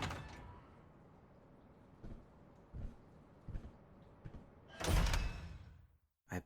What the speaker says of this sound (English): Go ahead and pull the open door, won't you?